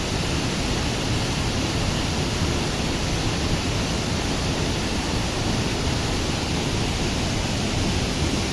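Ranao Falls pours with a dense, even roar of falling water, loud and continuous throughout with no voices over it.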